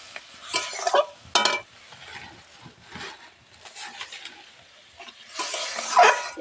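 Egg curry stirred in a pan after salt and turmeric go in, with intermittent scraping and clattering strokes separated by quieter gaps and a low simmering hiss underneath.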